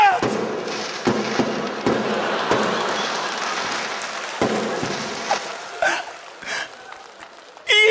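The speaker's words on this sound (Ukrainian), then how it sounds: "Салют!" A fireworks salute goes off during a comedy stage sketch, with a string of sharp bangs and crackling bursts over a busy, noisy background. Voices are mixed in among the pops.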